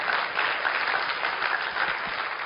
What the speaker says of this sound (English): Give him a big round of applause for his hard work.